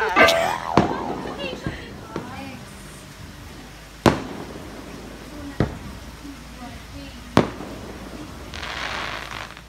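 Fireworks go off at a distance in several sharp, separate bangs a second or so apart, with faint crackling and fizzing between them. People talk and shout in the background.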